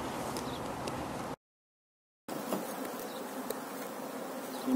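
A swarm of bees buzzes in a dense, continuous drone during an urgent bee removal, briefly cut to silence for about a second before the humming resumes just as thick.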